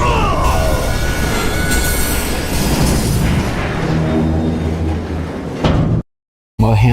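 A train in the western video game Call of Juarez Gunslinger rumbles and rattles loudly and steadily with metallic clanks and faint wheel squeal, then a heavy clunk near the end, a brief silence and a renewed burst of noise.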